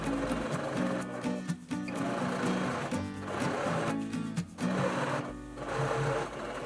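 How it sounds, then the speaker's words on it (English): A sewing machine stitches along the sides of a fabric key fob strap, running in loud, fast rhythmic bursts with short pauses between runs, close up and without talk. "you're going to sew down each of the length sides 1/8 inch from the raw edge."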